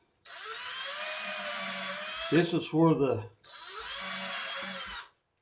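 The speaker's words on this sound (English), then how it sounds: "I'm going to make some witness marks here with the drill bit" A power drill with a bit whines steadily while marking a Telecaster-style guitar body, running in two long bursts with a brief pause between where someone talks.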